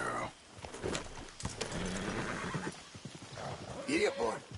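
A horse in Red Dead Redemption 2 whinnies loudly in bursts while hooves clip-clop steadily beneath, close by, with a voice talking over parts of it.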